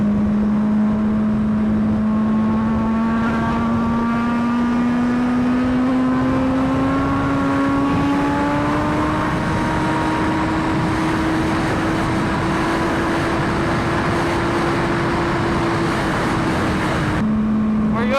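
An MV Agusta hyper bike rides along a road, its engine holding a loud, steady tone that climbs slowly in pitch under strong wind rush, close to the rider throughout.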